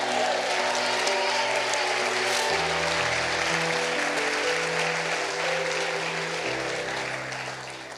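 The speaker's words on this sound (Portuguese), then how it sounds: "uma salva de palmas ao Senhor" A church congregation at a Sunday evening service applauds in praise, loud sustained clapping over sustained music chords, tapering slightly at the end.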